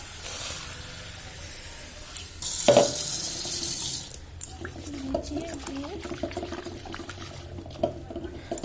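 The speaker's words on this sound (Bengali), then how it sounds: "ডালটা এবার বসিয়ে বসিয়ে একটু ধুয়ে" Lentils being rinsed in a home kitchen under running tap water, a loud rushing splash of water for a couple of seconds, then quieter dripping and handling, with talk over parts of it.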